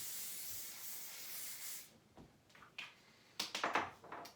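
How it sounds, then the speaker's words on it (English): A hair spray can hisses in one steady burst for nearly two seconds, then gives way to quieter handling rustles and brushing sounds close to the microphone. "give yourself another spray."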